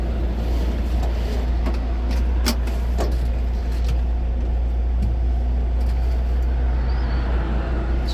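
A 1982 Ford Transit Mk2 van with a cable clutch out on a test drive, a steady low engine drone and road rumble heard from inside the cab, with a few sharp knocks and rattles along the way.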